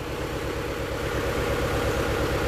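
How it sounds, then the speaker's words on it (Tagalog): A machine engine idles steadily at a palay and rice buy-and-sell business, its low, even throb pulsing without a break and with no voices. "nag-start na sila at tumunog na ang makina"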